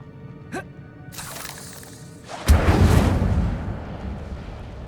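Incendio fire spell cast in Hogwarts Legacy: a short whooshing cast followed by a loud, booming fiery burst that roars and rumbles before slowly fading, up close and heavy in the low end.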